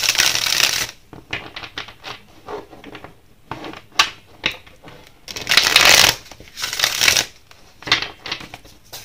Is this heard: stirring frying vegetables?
no